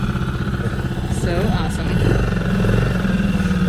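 A small boat's outboard motor runs with a steady low engine drone throughout, growing slightly louder partway through, while people talk over it.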